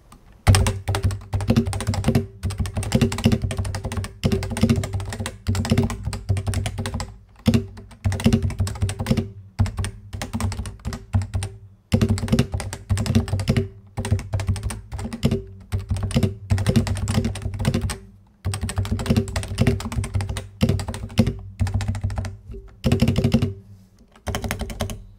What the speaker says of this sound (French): un petit test audio du bruit que fait ce clavier avec les switches TOPR